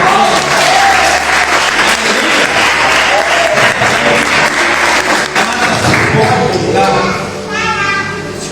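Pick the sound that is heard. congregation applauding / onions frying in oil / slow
congregation applauding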